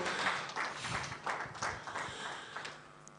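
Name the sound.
round of applause at HiFL 2022 draws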